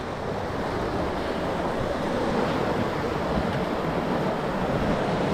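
Water from a dangerous river in Kenya rushes over rocks in a constant, dense roar, loud and close with wind buffeting the microphone throughout.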